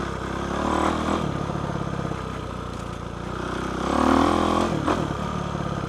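A 2008 Kawasaki KX450F dirt bike being ridden, its single-cylinder engine buzzing steadily up close and rising and falling as the throttle opens and eases, with no talking.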